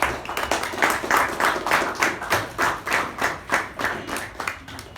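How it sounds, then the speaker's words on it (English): An audience claps together at a Toastmasters meeting, a brisk, evenly paced round of applause from a modest crowd lasting several seconds before fading slightly. "With a huge round of applause, please help me welcome the Master of Ceremonies of the day"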